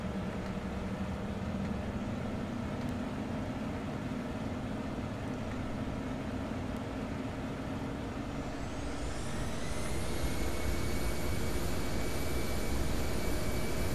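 Embraer E175 jet engines spooling up to takeoff thrust in the Prepar3D flight simulator, a loud steady roar with a whine that rises in pitch partway through, heard alone without talking.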